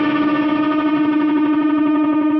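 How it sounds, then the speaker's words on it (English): A sustained distorted electric guitar chord, slightly out of tune, its tone beating and wobbling steadily throughout. "if I put distortion on, if it's not quite in tune, it wobbles"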